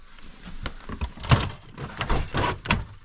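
An old drawer slides open in an abandoned woodland cabin, giving several short scraping and knocking bursts in irregular succession at close range, with no talking.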